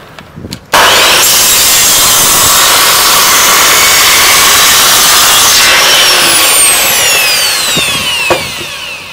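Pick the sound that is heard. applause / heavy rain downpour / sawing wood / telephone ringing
sawing wood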